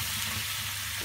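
Broth poured into a frying pan of vegetables, producing a burst of dense, bright sizzling hiss that stays loud and even for about a second.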